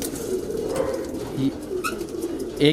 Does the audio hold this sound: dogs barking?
no